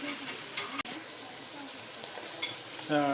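Garlic, onions and peppers stir-fried in a hot pan with meat juices and fat make a continuous sizzle, broken by a sharp clack and scraping stirs, with a faint tonal whine near the end.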